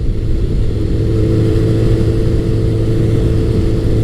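Honda CBR1100XX Blackbird (Super Blackbird) motorcycle cruising at speed, a steady, loud, smooth engine drone with wind noise and no break throughout.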